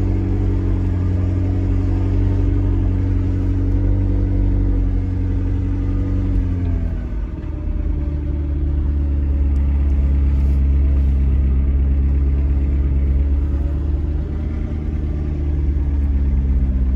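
A McLaren 650S Spider idles just after starting up, its deep, steady engine rumble close and loud, with a slight dip in pitch partway through before it settles back into a smooth idle.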